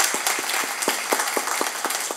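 A small audience at a Korean talk concert claps briefly, with individual claps in a fairly regular rhythm, close and moderately loud.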